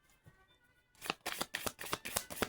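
A deck of crystal cards being shuffled close by, starting with faint handling and then a run of crisp, rapid riffling flutters, with no talking.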